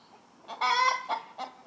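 A Colombian black-tailed hen clucks close by, a brief run of short throaty calls followed by a couple of quick clucks, with no other sounds around them.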